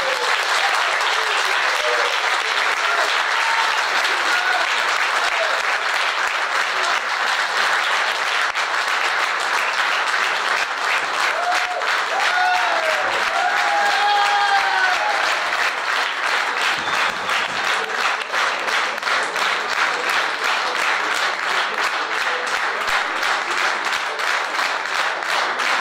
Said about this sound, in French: Et je pense qu'on peut l'applaudir.